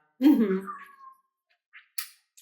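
A single drawn-out cat meow, close and clear, trailing off, followed by a couple of faint short clicks or rustles.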